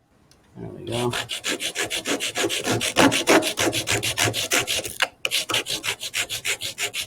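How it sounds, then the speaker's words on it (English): Rapid back-and-forth rasping of sandpaper on balsa wood for a model plane, steady rhythmic strokes close up, a brief pause near the end, with a few words spoken. "all the time we're sanding balsa"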